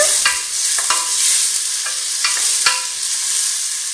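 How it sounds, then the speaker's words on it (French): Onions sautéing in oil for a lamb tajine with green beans and potatoes, a close, bright sizzle broken by several sharp spatula scrapes and clicks in an uneven rhythm. "je les fais risoler les oignons dans de l'huile"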